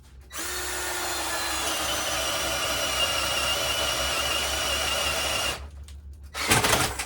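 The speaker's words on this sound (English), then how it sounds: "I'm going to drill the hole right here" A power drill whines steadily for several seconds as it bores a hole through wood while roughing in electrical wiring, then cuts off, followed by a brief rattle.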